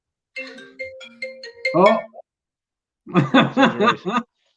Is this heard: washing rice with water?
no